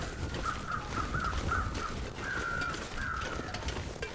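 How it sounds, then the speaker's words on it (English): Crows in the survival video game The Long Dark give a series of harsh, repeated caws at moderate distance over a steady wind-like ambient background, with no talking. "I hear crows."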